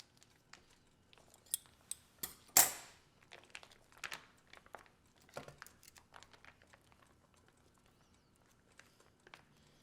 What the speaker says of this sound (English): let's cut open this bag